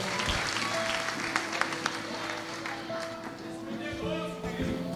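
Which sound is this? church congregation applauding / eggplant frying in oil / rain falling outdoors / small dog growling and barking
church congregation applauding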